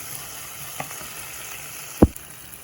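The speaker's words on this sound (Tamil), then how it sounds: "தக்காளியை போட்டுட்டு ஒரு நிமிஷம் இதை கிளறுவோம்." Chopped tomatoes fry in a pan for potato rasam, a soft continuous sizzle close by, broken by a single sharp knock of the stirring spoon near the end, with no voices.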